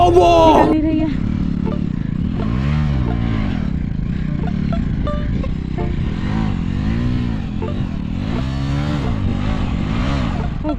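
A motorcycle stuck on a rough off-road track in Ladakh revs repeatedly, its engine rising and falling in loud, strained surges with clattering underneath, close by and continuous.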